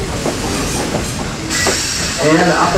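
The Essex steam train riding on rails, its car rolling with steady rumble and clickety-clack under someone talking nearby, with a brief squeal of wheels near the end.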